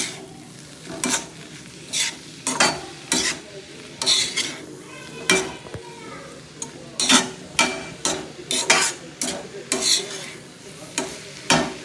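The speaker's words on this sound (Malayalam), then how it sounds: "ഇതിലേക്ക് തന്നെ മല്ലിച്ചപ്പ്, കറിവേപ്പ് ഇതും കൂടി നന്നായി ഒന്ന് ഇത്" A spatula scrapes and stirs coriander and curry leaves in a hot frying pan, with repeated rhythmic scraping strokes over a steady sizzle, close and loud.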